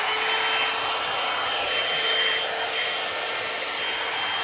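Revlon brush hair dryer blowing hair, a steady close whooshing motor hum with airflow hiss, continuous and fairly loud with slight fluctuations.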